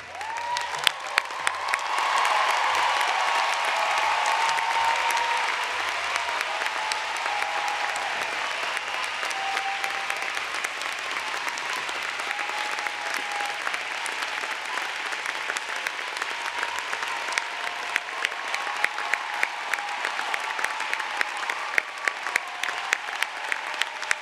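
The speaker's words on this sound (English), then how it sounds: "please stand, turn, and applaud your parents and other family members and friends who are here for you" Graduating class and audience at The New School's 2015 commencement ceremony applauding parents, family and friends: sustained, dense applause from a large crowd, steady and fairly loud throughout, with scattered sharper claps standing out.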